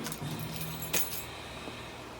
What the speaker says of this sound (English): My car keys are in my pocket, jabbing me in the side.